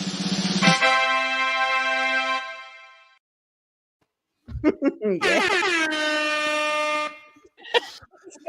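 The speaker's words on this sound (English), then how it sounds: "I So love that you're playing your own air horn" Two loud, sustained air horn blasts, the first fading out, then a pause and a second long blare with short sputtering honks after it.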